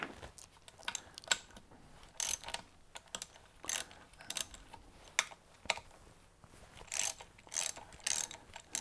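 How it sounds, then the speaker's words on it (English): A ratchet turns the rear flange retaining bolts on an engine, making quick bursts of close, crisp clicking with short pauses between strokes, and no voices. "We are next removing the 6 retaining bolts which hold the rear flanges"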